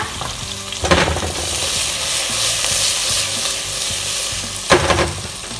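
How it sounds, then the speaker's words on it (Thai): Mushrooms and green onions stir-frying in a hot pan give a steady, close sizzle, with two louder scraping stirs about a second in and near the end. "แนนก็จะใส่ต้นหอมลงไปผัดนะคะ"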